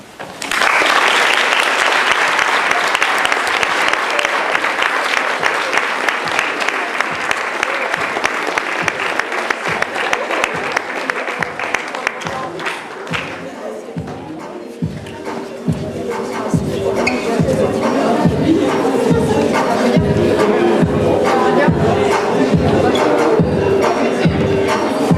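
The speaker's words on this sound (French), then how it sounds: "Vous pouvez encore les applaudir." A school audience claps after a poetry performance, a dense burst of applause that thins into slower, more separate claps, loud and close, with a little shuffling and murmur.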